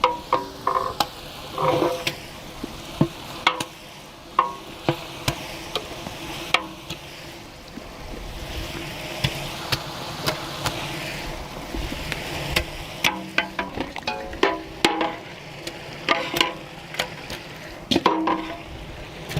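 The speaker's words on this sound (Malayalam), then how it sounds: "ഇനി നമുക്ക് ചിക്കൻ ഇട്ട് കൊടുക്കാം." Chicken pieces for Arabian chicken kabsa fry in a pot at a village outdoor cooking setup, with steady sizzling broken by repeated scraping and clanking stirs of a utensil against the pot, loud and close.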